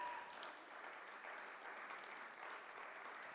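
An audience at a Bharatanatyam dance event applauds parent volunteers, an even, steady patter of clapping heard faintly from a distance.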